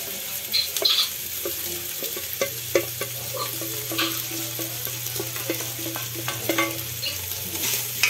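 Beef sizzles and fries in a pan while being stirred, with scraping utensil strokes and a soft continuous hiss, fairly quiet and close, no talking.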